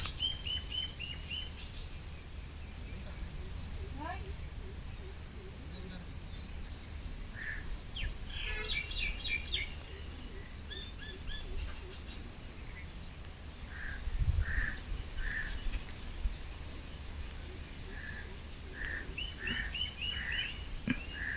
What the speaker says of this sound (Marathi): ऐकवते पक्ष्यांचा आवाज तुम्हाला ऐकवते एकदम नैसर्गिक व्हॉईस